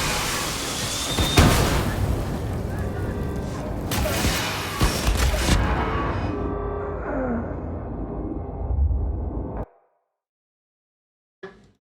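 Loud explosions and gunfire in a video game, with heavy booms and sharp bursts layered over rumbling noise, ending abruptly in silence before a brief final crack.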